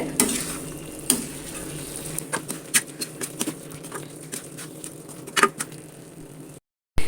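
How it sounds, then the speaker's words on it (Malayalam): Onions frying in a pan for chicken chukka are stirred, with irregular spatula scrapes and knocks over a steady sizzle, close and fairly loud, before a brief silence at the end. "നന്നായിട്ട് മിക്സ് ചെയ്ത് ഇളക്കി ഇളക്കി അതിലേക്ക് യോജിപ്പിച്ചെടുക്കാം"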